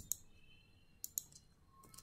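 A computer keyboard types a spreadsheet formula in a few sparse, light key clicks, with a tight pair near the middle, faint against a quiet background and with no speech.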